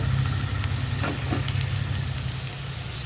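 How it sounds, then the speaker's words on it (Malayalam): Turmeric and chilli powder stirred in hot oil for a chana curry, producing a continuous close sizzle with a low hum underneath and a few soft stirring scrapes. "ഇത് മൂന്നും ചേർത്ത് നന്നായിട്ട് ഇളക്കി വീണ്ടും ഈ ഒരു മസാലപ്പൊടികൾ കുക്കായി വരുന്നത് വരെ ഇളക്കി കൊടുക്കുക"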